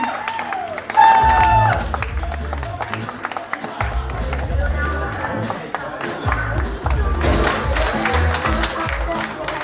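Audience applause for a candidate at a Miss Rock'n Guinguette pageant in Harmignies, mixed with crowd noise and steady music thumping underneath, continuing for about ten seconds.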